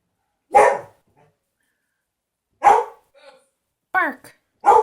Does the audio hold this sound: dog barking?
yes